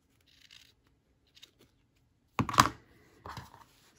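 Scissors snipping through fabric while a sewing roll is made, heard as faint scattered snips followed by two louder close-up cutting bursts.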